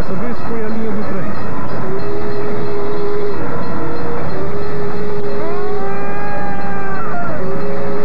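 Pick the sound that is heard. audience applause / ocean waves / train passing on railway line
train passing on railway line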